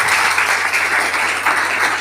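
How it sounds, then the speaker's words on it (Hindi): Loud, steady applause from an audience at a Hindi-language gathering, a dense wash of clapping that holds at full strength for the whole stretch without letting up. "अगेन एक बार जोरदार तालियां,"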